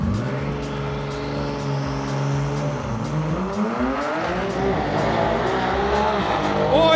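A low-boost Nissan GT-R drag car launches hard down the strip in an Unlim 500 race, its engine roaring loud and close as it climbs steadily through the gears, with faint tire noise beneath.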